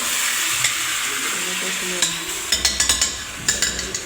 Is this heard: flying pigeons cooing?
no